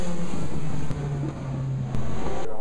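Race cars lapping Le Mans during a rainy morning practice, a continuous drone of engine and road noise mixed with wind, with a couple of brief louder surges as cars pass close.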